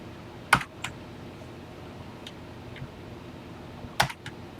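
Key presses on a TI-99/4A home computer keyboard land as a few sharp, separate clacks, two louder strikes about three and a half seconds apart with softer taps between, close and clear over a quiet room hum.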